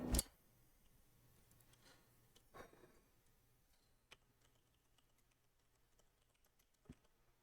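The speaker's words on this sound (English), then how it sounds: "I'm just typing to let them know about this." A computer keyboard clicks with faint, sparse keystrokes and short pauses between taps, close by in a quiet room with no talking.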